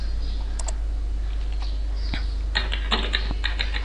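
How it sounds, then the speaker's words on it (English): Computer keyboard keys pressed for a Control Enter shortcut, a handful of light plastic clicks and taps spread across a quiet background hum, with a small cluster of quick presses near the end. "let me show you a publish preview by hitting Control Enter on my keyboard"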